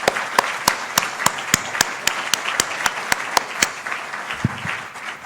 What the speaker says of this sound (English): I suggest we give these guys a round of applause